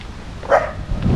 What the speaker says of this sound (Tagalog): Kinakahulan ako nung aso.